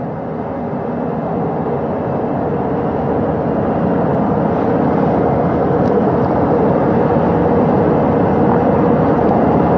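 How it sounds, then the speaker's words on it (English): Helicopter engines on a ship's flight deck powering down, a steady loud broadband rumble and whine holding evenly throughout without pause, with no voices. "right after we power down the helicopters here"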